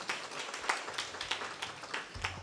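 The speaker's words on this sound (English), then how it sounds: "Please give them another round of applause." Faint, sparse clapping from a small audience at a temple cultural concert, a handful of scattered claps spread out at a distance rather than full applause.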